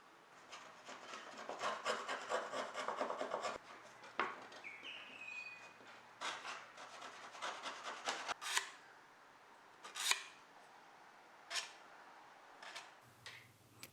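Hand scraper rasping across the wood of a 1930s rocking chair during restoration, a run of close, uneven strokes, dense at first and then spaced into separate scrapes with short pauses between.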